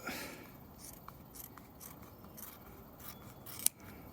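Scissors snip through material while a child's garden swing is being repaired, with soft, quiet cutting and rubbing strokes and one sharp click near the end.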